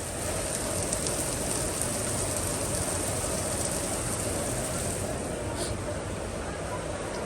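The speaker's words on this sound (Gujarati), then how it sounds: "ફૂલ વરસાદી" Heavy rain pours down steadily and close, a dense unbroken roar of drops with no pauses, on a farm visit during a downpour.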